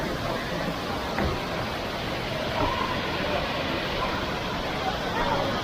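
Heavy water pours down Khlong Lan waterfall in Kamphaeng Phet, a constant broad roar close by, with a few faint scattered knocks and distant voices under the rushing sound.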